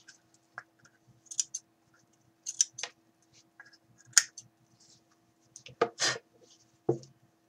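Scissors trim sari ribbon on a small shabby-style hot air balloon craft. Several short, crisp snips come close by in an irregular rhythm, quiet, with no talk.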